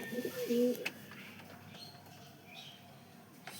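A couple of soft, low pigeon coos near the start, then quiet coop ambience with faint rustling.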